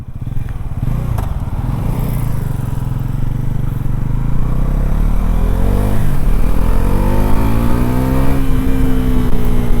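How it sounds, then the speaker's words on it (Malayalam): Bajaj Pulsar NS400Z motorcycle exhaust while riding on the road: a steady, loud engine drone with rising harmonics as the rider accelerates through the gears, no talk. "ഒരു N S to ഹൺഡ്രഡിൻ്റെയൊക്കെ same സ്റ്റൈലുള്ള exhaust നോട്ടാണ് still കേൾക്കാൻ രസമുണ്ട്"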